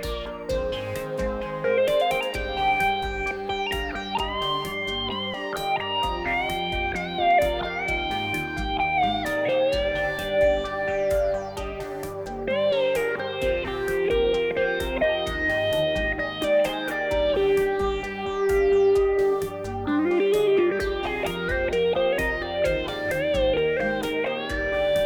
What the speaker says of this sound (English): You can hear the volume boost now that the extra distortion is in.